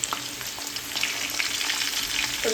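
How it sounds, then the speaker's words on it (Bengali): Potatoes frying in hot oil in a pan for vegetable biryani, a steady close crackling sizzle running throughout with no talk. "এই প্রথমে তেল নিয়ে ওর মধ্যে আলুগুলো ছেড়ে দিয়েছি ভাজার জন্য"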